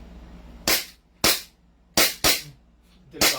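Five loud, close single shots from a Glock 17 Gen 5 pistol, fired semi-automatically with uneven spacing and two shots close together, each with a short decaying echo over quiet background.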